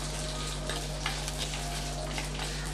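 Dried red chillies sautéing in a pan give a continuous, even frying hiss with soft stirring scrapes, close and fairly quiet, over a steady low hum.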